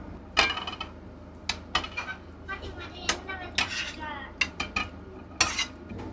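Fish pieces go into a boiling fish curry in a pot with a run of close clinks and knocks of metal utensils and cookware, spread over several seconds, with a low bubbling bed beneath.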